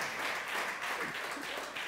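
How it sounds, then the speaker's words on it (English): A church congregation claps together in a dense, sustained burst of applause that stays even and full for its short length. "Just give God a clap offering."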